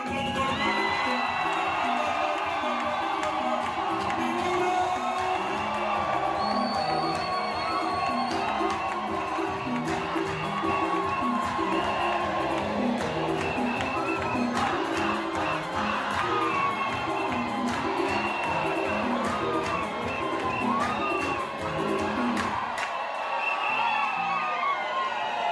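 A crowd at a gathering applauds and cheers continuously, a dense wash of clapping with whoops and shouts and some voices mixed in, fading slightly at the end.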